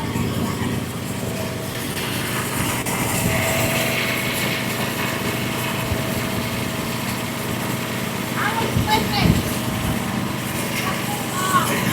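A Frontier OS35 hydraulic sawmill cuts a log, its engine droning steadily and loudly throughout, with the blade's load rising and shifting slightly near the end of the cut.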